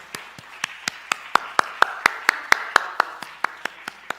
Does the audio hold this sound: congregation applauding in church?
yes